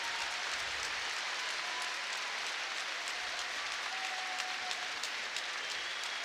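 A home crowd applauds at the Paris judo Grand Slam, with steady, distant clapping that fills the arena evenly.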